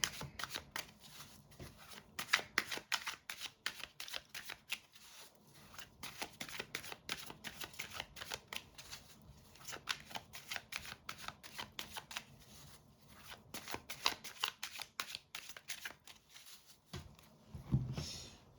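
Tarot cards being shuffled by hand, a run of crisp riffling bursts with short pauses between them, close and fairly quiet, with no talk.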